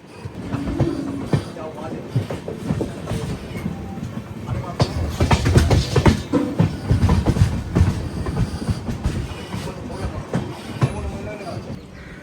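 A passenger train nears Jammu Tawi railway station, its wheels clattering and rumbling steadily on the rails from inside a carriage, with people talking faintly amid the noise.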